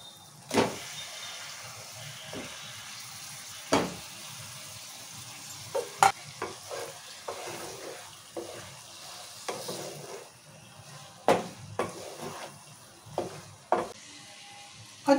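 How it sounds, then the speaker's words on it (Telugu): Chicken added to onion-tomato masala in hot oil gives a steady sizzle, broken by repeated sharp scrapes and knocks of a spoon against the pan, with no voices. "ఇప్పుడు చికెన్ వేసుకుందాం."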